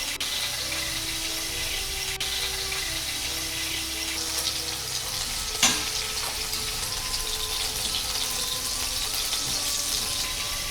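Rendered duck breast fat sizzling steadily in a frying pan, a dense, even crackling hiss that holds throughout with one brief clink partway, close and moderately loud, no voices.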